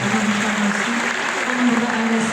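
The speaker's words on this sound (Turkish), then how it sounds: "Ben alkışlarını isterdim." An audience at a live concert claps steadily and fairly loudly, with even applause that carries on without a break, and a faint murmur sits beneath it.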